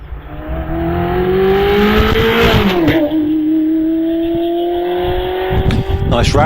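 A Ferrari 360 Modena races up a hillclimb course, its engine loud and raucous as it revs hard, shifts once partway through, then keeps pulling steadily close by.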